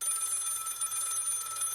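A bell rings in the video game The Space Between, a steady high metallic trill sustained evenly at moderate loudness with no voices over it.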